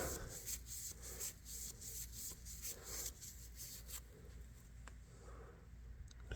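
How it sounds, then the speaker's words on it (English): Thin stick scraping rust from inside a vintage Kutmaster electrician's knife, heard as close, quiet rhythmic rubbing strokes over a steady low background hum. "Help scrape that stuff off down in there. Clean that rust out."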